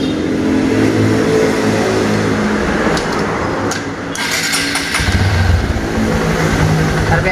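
A Honda CRF 150L motorcycle engine with a remapped ECU revs up and holds high, a loud close continuous roar that dips briefly before surging again.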